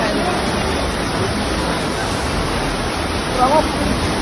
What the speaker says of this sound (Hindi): नाले में पानी सारा